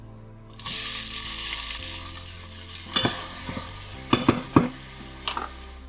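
Chopped onion drops into hot olive oil in a saucepan and sizzles steadily up close, broken by several clattering stirs and knocks of a utensil against the pan.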